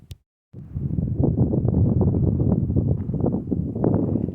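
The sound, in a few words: wind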